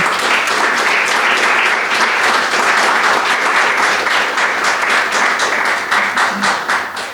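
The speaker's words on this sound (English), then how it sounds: "So let's give a round of applause to Susan." Audience applause at a literary reading, a dense steady burst of many hands clapping that holds loud for several seconds before tapering slightly at the end.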